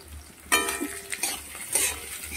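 Half a capsicum fried with a little salt in a pan for chili paneer, heard as a soft sizzle broken by several sharp scrapes and clinks of a spatula against the metal, close and moderately loud, with no talking.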